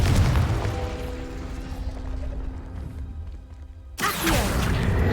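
A Confringo blasting spell goes off in Hogwarts Legacy with a deep boom that rumbles and fades over about three seconds, followed by a short silence and then a sharp new burst of crackling impact noise.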